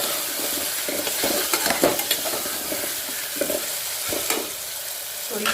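Spice powders, including coriander powder, sizzle in hot oil in a pan while a spoon scrapes and stirs them in irregular strokes, close and fairly loud with no talking.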